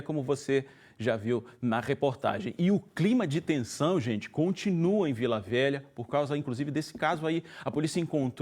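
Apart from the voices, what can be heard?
No everyday noise stands out behind the speech.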